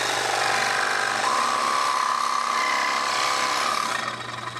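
Power saw cutting into a crusty, decades-old threaded pipe on a chiller and boiler system, a steady loud grinding rasp with a rising whine that holds throughout, then eases slightly at the end.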